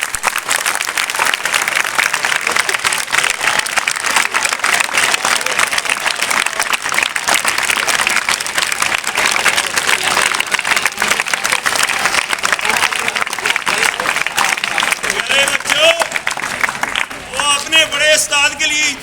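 A school audience at an alumni gathering gives loud, dense, sustained applause for a senior teacher. The clapping continues at full strength and ends as a voice begins speaking near the close.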